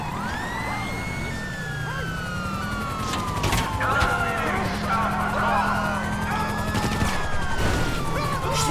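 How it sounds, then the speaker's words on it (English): A wailing police car siren in GTA 5 Online sweeps up and down through a busy, noisy scene, with bursts of other tones and scattered clatter mixed in. "All these sirens, you get crazy of these sirens."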